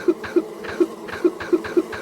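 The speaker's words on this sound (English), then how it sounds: "you can make Tinky Winky cough over and over again like he's dying from the plague" A video game character, Tinky Winky, coughs repeatedly in a steady rhythm, six short harsh bursts spaced evenly, close and fairly loud with no talking.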